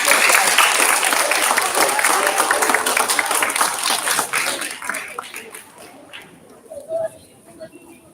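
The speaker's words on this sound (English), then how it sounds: "Let's give a round of applause." An audience at a 2021 DARE graduation applauds loudly with dense clapping and some cheering, then the applause fades over the last few seconds as scattered claps and a voice remain.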